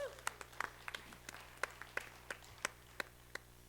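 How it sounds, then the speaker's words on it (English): Sparse, distinct hand claps from a small audience applauding a speaker, a dozen or so separate sharp claps spaced irregularly over a quiet room. "Let's give him a round of applause."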